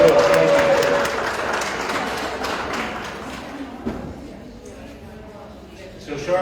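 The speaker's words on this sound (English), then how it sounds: "How about a round of applause for our judge and our stewards who make this show go?" Applause for the judge and stewards at a Siberian Husky club dog show, loudest at the start and tapering off into scattered claps and faint room noise, with a brief tone and voices mixed in early.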